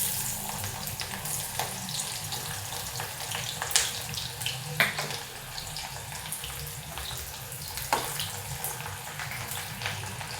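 Chopped onion frying in a pan for a dry mutton dish, a steady, dense sizzle that stays loud and continuous throughout, with a few brief clinks over it.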